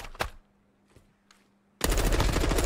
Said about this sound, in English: Gunfire prattling out across the map.